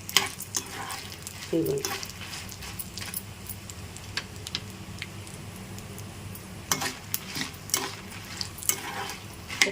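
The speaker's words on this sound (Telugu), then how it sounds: "చక్కగా ఈ విధంగా చక్కగా వేపేసుకొని కలుపుతూ ఉండాలండి, మానేయకూడదు" Coconut chutney ingredients stirred and frying in a pan, with soft sizzling and scraping clicks of a spoon running through the whole stretch, someone speaking briefly over it.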